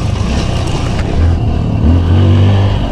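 A Honda CRF trail motorcycle revs on a muddy rural trail, its engine loud and close, rising and falling in pitch through a couple of throttle surges over constant rumbling.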